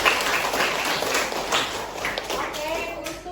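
A classroom audience claps in applause during a pharmacy lecture, a brisk steady patter of many hands lasting a few seconds, with a voice speaking over it.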